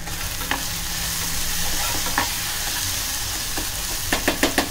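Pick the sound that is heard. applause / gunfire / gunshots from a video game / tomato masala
tomato masala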